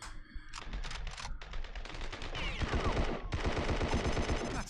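Rapid automatic gunfire from a video game rattles in dense bursts, loud and close, with another person's voice briefly audible in the mix.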